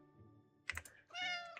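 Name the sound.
cat meowing in Animal Shelter 2 video game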